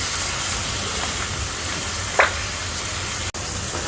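Hakka noodles frying in a pan as soy sauce, chili sauce and tomato ketchup go in, giving a steady close hiss and sizzle with a brief flare of crackle partway through.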